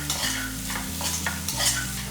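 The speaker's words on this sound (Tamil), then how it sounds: "போட்டு எல்லாம் நல்லா வதக்கிக்குவோம்." Tomato and masala being sautéed for a prawn and brinjal gravy, a steady close sizzle with repeated stirring scrapes of a spoon in the pan, no talking.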